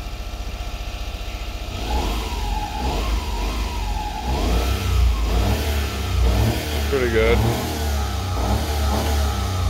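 Honda Acty mini truck engine idles then revs repeatedly in rising and falling surges, close and fairly loud, with a brief spoken remark over it.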